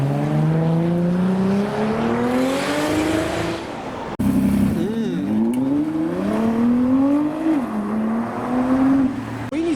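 A Toyota Supra does a burnout at a JDM car takeover meet, its engine loud and close, revving up and down in rising and falling sweeps, with a brief break in the middle before the roar starts again and crowd voices underneath.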